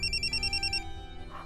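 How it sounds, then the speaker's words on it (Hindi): A telephone rings with a repeating electronic trill, fairly quiet, then stops after about a second. "ममता नून जी का फोन है।"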